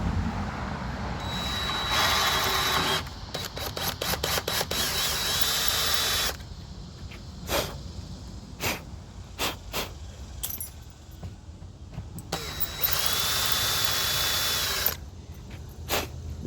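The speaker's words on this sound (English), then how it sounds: "this is aluminum, so it's very, very easy to drill through" A power drill bores into aluminum on a 1991 Corvette C4 targa top repair, running in a long whining burst, then several short stop-start pulses, then another sustained run, close and loud with no talk.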